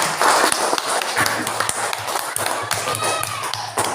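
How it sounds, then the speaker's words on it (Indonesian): A class of children claps for a classmate, a busy patter of small hands with scattered sharper taps while voices talk over it. "tepuk tangan untuk Denny"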